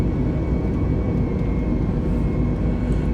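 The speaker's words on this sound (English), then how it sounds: "rotate, positive climb, gear up" An Airbus A320neo climbs away on takeoff in Microsoft Flight Simulator, its engines producing a loud, steady roar with a broad rumbling hiss that stays constant from start to finish.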